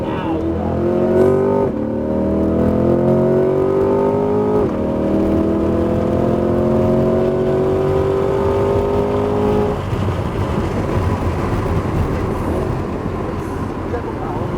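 Chevrolet Corvette C8 Z51 engine driven on the Homestead-Miami Speedway track, loud and close, with rising, accelerating harmonics across several upshifts, then a broader rough roar near the end; a person talks over it.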